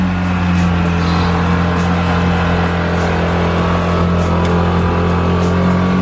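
A tuk tuk rickshaw engine strains steadily uphill on a road in Sri Lanka, a loud, continuous droning hum with no pauses, heard from on board the vehicle.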